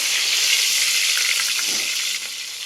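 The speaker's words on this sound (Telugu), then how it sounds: "నూనె అయితే కాగిపోయిందిగా ఇప్పుడు నేను కరివేపాకు వేసుకుంటున్నాను" Curry leaves dropped into hot oil, giving a strong, steady crackling sizzle that holds loud and close throughout.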